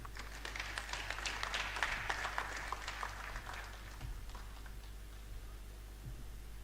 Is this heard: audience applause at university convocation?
yes